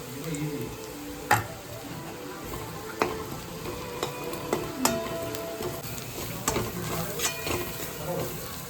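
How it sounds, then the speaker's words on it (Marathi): Onion is stirred and fried in a pan until golden brown: a steady close sizzle broken by sharp scrapes and clicks of the spatula every second or so. "आता हा कांदा थोडासा गोल्डन ब्राऊन होईपर्यंत परतवायचा."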